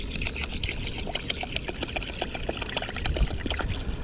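Water poured over rice to wash it in Taiwan, a steady close trickle and splash with small clicks of grains, no voices over it.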